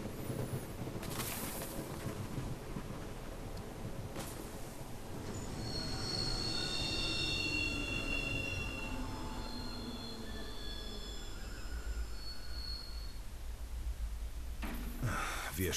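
A train in the Final Fantasy 15 video game runs on its rails, a steady rumbling roll with long high-pitched wheel squeals rising in the middle, constant throughout with no voices.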